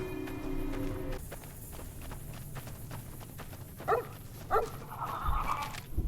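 Dog barking in the Fallout New Vegas game world: two or three short, sharp barks partway through, moderately close, over a low continuous ambient rumble, with a steady tone early on and a brief thud near the end.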